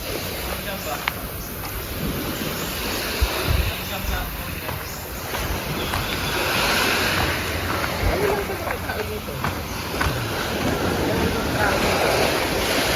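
Seawater slapping and washing against the shore where the current runs strong, heard as a constant close wash mixed with wind gusts and faint voices in the background.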